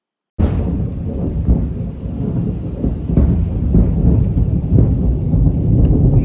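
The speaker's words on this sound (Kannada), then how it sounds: "ಎಷ್ಟು ದೊಡ್ಡ ಗುಡುಗು ಗೈಸ್ ಕೇಳಿಸ್ಕೊಂಡ್ರಾ ಒಳ್ಳೆ ಬಾಂಬ್ ಆಗ್ತಂಗಿತ್ತು" A loud thunderclap bursts in suddenly, then rolls on as a sustained deep rumble with rain, no voices.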